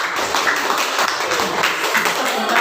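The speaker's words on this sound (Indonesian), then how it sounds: "Beri tepuk tangan." Classroom applause from a group of children and teachers after a lesson presentation, a dense continuous patter of many hands clapping at steady loudness throughout.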